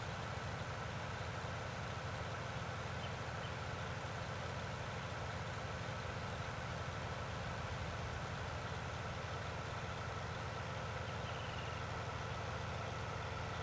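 A tractor engine runs steadily in Farming Simulator 19 on the Ravenport map, a constant low drone with a dense broadband hum that stays even throughout, with no talking.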